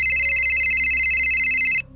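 A cellphone ringtone trills loudly and steadily, a rapid buzzy electronic warble close by, then cuts off abruptly near the end.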